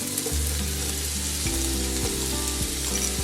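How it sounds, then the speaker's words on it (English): Chopped onions frying with ground beef in a pan for Filipino beef giniling, a steady close sizzle that runs without a break, with a low tonal hum underneath and no talking. "Now we're going to go in with our onions."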